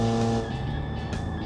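An off-road vehicle running in rear-wheel drive brakes hard, and its engine drones steadily up close while a brief rough scrub of tires skidding to a stop cuts in partway through. No one speaks.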